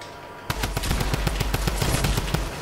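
A drum gun in the Fortnite video game fires a rapid, sustained burst of evenly spaced automatic shots that starts abruptly and runs loud and close for about two seconds, with no voices over it.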